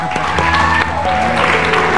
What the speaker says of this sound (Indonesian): Kasih tepuk tangan dong, beneran.